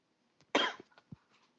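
A single sharp human cough, close and fairly quiet, followed by a few small throat sounds in an otherwise quiet room.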